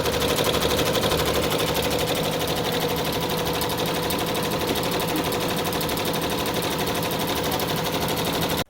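An embroidery machine stitches a puff hat with a rapid, relentless mechanical chatter, loud and close, running nonstop until it cuts off abruptly.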